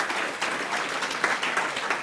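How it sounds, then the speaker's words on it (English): An audience gives a speaker a round of applause at a design talk, continuous crowd clapping filling the whole moment at a fairly loud, steady level without pauses. "So a big round of applause for Jennifer McIver."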